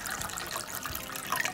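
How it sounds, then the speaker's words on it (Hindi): Water poured steadily into a cooking pot for chickpeas in aloo chole, a continuous close pour with no talking. "मैं तकरीबन इसमें 1 लीटर से थोड़ा कम पानी डालूंगा।"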